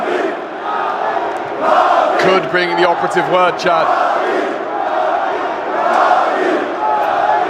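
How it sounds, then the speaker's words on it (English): Esports arena crowd at the PGL Major Antwerp CS:GO quarter-final between Navi and Heroic, roaring and chanting loudly and continuously while a caster talks briefly over it. "the crowd's starting to get louder and louder here"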